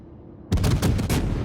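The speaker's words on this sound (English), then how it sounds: "he's instead getting a few salvos off against the Conqueror" A warship's gun salvo in World of Warships, with a Worcester firing at a Conqueror: a sudden loud burst of several rapid, heavy booms after a quiet lead-in.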